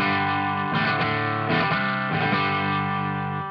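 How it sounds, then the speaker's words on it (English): Clean electric guitar, a Rivolta Mondata with three mini humbuckers played on the bridge pickup through a Valco KGB fuzz setup, ringing chords struck a few times in a loose rhythm, loud and close with no voices. "but so clean, it sounds like this."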